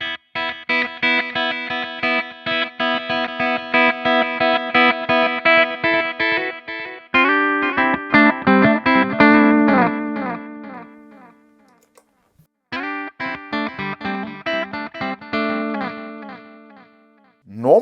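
An electric guitar runs through a UAFX Lion 68 Super Lead amp pedal with a clean boost, playing bright sustained chords and picked notes with a brief pause, loud and up close with no talking.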